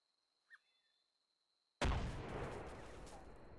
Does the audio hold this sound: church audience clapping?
no